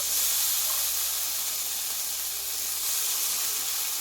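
Soaked mung dal dropped into hot oil with frying spice masala, giving a steady, close, hissing sizzle that stays even throughout and has no talk over it.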